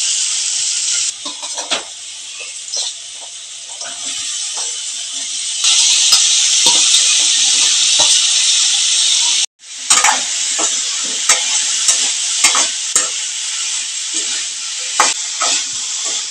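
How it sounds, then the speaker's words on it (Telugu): Brinjal pieces with onions and tomatoes fry loudly in a pan, a continuous bright sizzle broken by repeated scrapes and clatter of a stirring spoon. "ఇప్పుడు ముందుగా కట్ చేసి పెట్టుకున్న వంకాయ ముక్కలు వేసుకుందామండి"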